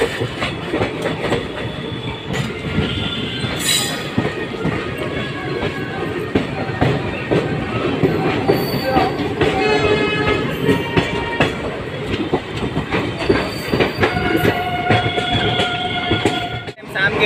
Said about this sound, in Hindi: ताप्ती गंगा ट्रेन रवाना हो चुकी है बलिया से 20 मिनट डिले के साथ।